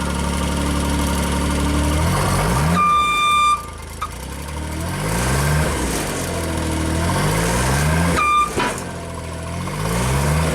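A JLG scissor lift engine, started from the ground controls, runs at a steady idle with a loud mechanical drone and brief dips in sound along the way.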